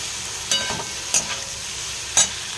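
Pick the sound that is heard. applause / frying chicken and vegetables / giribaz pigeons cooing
frying chicken and vegetables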